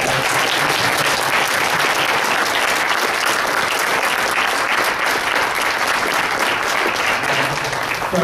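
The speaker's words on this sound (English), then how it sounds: "let's all give a round of applause for our" Sustained applause from an audience at the close of a talk about the Kitzmiller v. Dover trial, dense and loud clapping throughout without a break.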